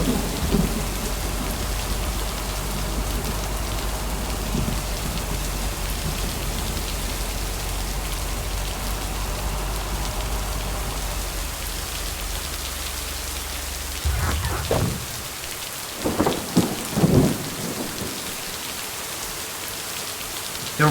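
Heavy rain pours steadily in the video game Lake, with a low rolling thunder rumble early on and sharper thunder cracks toward the end, loud and close.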